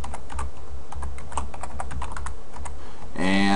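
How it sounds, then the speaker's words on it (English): Keys on a computer keyboard are typed in a quick, irregular burst of sharp clicks at close range, with no talking over them. "I'm just going to go ahead and type in my name"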